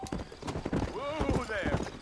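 A horse in Red Dead Redemption gallops with rapid clip-clop hoofbeats and a brief whinny, close and loud, while a voice speaks over it.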